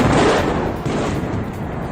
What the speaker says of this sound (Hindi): ये देखें इजराइल और अमेरिका का एयर अटैक